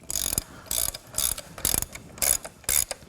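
A torque wrench ratchets on a Kawasaki KLX 110 dirt bike while rear brake parts are refitted, giving six loud, evenly spaced bursts of rapid clicking close to the mic, each about a third of a second long, with no talk.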